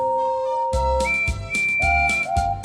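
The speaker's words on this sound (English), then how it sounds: "the rest of his speech was drowned in a delightful chorus of cheers and whistles" Steam engine whistles sounding in a layered chorus, sustained tones overlapping with several loud rhythmic bursts of cheering-like noise, close and full.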